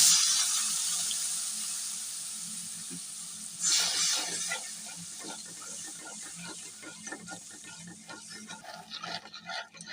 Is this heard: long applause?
no